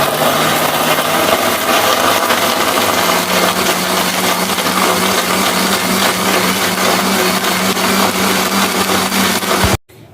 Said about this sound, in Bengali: দিয়ে আর একবার মিক্সিটাকে চালিয়ে নেব।